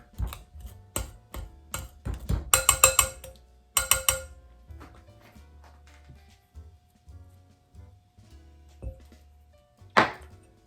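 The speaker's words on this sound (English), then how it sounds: "I think we're going to move to the pastry cutter to start. So let's cut that in there." A pastry cutter chops repeatedly into gluten-free cracker dough for pizza crackers in a bowl, giving a rhythmic run of close, sharp chopping thuds that bunch up, thin out into quieter scrapes, and end with one bright clack.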